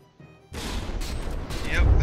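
Rear guns on a ship firing in From the Depths, with a heavy blast opening a sustained rumble of battle noise and a deep boom building toward the end.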